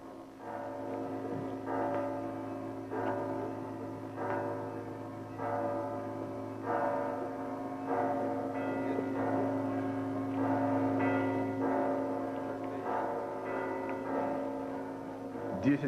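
Ten large church bells of Moscow's Cathedral of Christ the Saviour peal together for Easter vespers, their strikes recurring steadily about once a second over a dense, sustained wash of ringing tones, heard from a distance.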